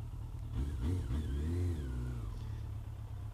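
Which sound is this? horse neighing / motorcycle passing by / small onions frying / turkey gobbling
motorcycle passing by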